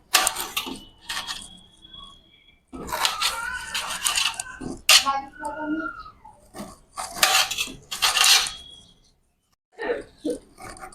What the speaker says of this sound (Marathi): आपल्याला हे सगळे लिंबू कापून घ्यायचे आहेत.